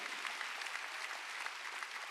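A church congregation at a Sunday worship service breaks into applause, a dense, steady clatter of many hands clapping at moderate volume for the full couple of seconds.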